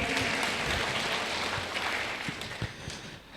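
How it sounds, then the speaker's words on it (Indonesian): Applause from a seated audience at a Universitas Flores ceremony: a broad, steady patter of clapping that thins and fades toward the end, with no speech over it. "Kita beri tepuk tangan sekali lagi."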